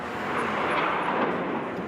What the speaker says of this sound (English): The sound is the Israeli drones.